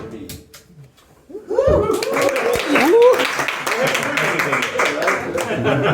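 After a near-silent opening second, an audience in a small Harlem jazz club bursts into loud, sustained clapping for the band, with voices calling and chattering over the applause.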